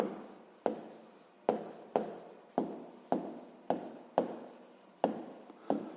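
Pen writing on paper during a sixth-grade maths exercise, a series of about ten short scratchy strokes in a steady rhythm, each starting with a sharp attack and then trailing off, very close and quiet, with no voices.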